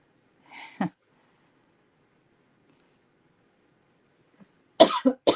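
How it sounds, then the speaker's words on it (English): A single short cough after a moment of quiet, followed by a brief cluster of louder coughs close to the microphone. "Excuse me while I cough."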